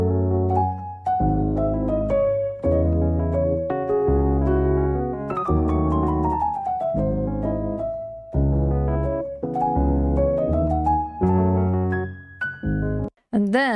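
Three piano layers play together, deep low-octave chords under a higher melodic line, forming a continuous, full passage at a moderate tempo with no voices, fading near the end.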